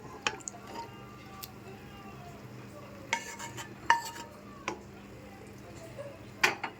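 Chicken biryani with basmati rice being stirred in a pot, quiet scraping and scattered metallic clinks of a spoon against the pot at irregular intervals over a low background hum.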